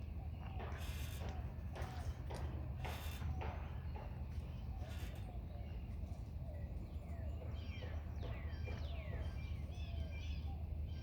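Small bluebirds give short, chirpy calls, clustered toward the end, as they mob a cat up in a tree outdoors, with a steady background hiss and low rumble under them.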